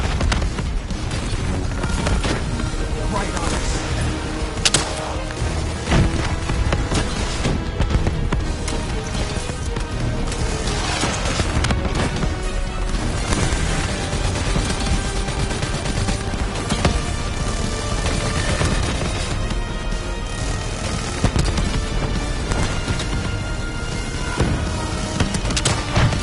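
Dense, continuous gunfire and booming explosions from the Call of Duty Black Ops video game, a loud, unbroken barrage of rapid shots and blasts with no pauses.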